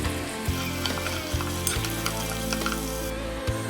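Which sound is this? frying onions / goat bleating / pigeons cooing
frying onions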